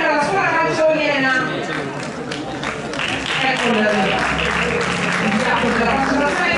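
Applause for a boys' football team at an awards ceremony in Sardinia, a crowd clapping steadily and moderately loud beneath an announcer's voice over a speaker.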